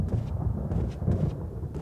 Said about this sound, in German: Und warum setzt jetzt plötzlich der Donner ein?